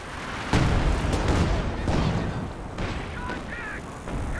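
Creeping artillery barrage shells exploding in Company of Heroes 2, a sudden loud blast followed by rolling booms and crackling impacts at mid distance, with scattered tonal game sounds near the end.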